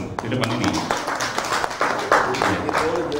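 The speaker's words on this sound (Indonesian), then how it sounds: "kita tepuk tangan dulu kepada narasumber yang telah hadir di depan ini" Audience members at a parliamentary panel discussion clap for the speakers, scattered claps pattering throughout while a voice keeps talking over them.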